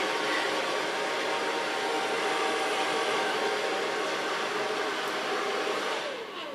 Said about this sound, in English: Okay, for so far blow drying.